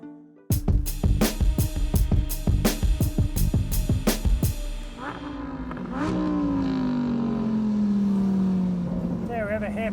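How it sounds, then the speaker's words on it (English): A Jaguar F-Type SVR races a hillclimb, its engine snarling through rapid upshifts with sharp repeated revs, then settling into a loud sustained drone with a falling pitch as it passes close by. "The brothers will be piloting identical Jaguar F-Type SVRs."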